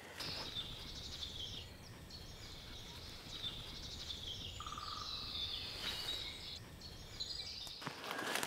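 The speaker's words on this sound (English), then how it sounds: "All the sounds we hear, all the different birds" Faint birdsong twitters in the distance over a soft outdoor hush, several high chirping calls overlapping quietly.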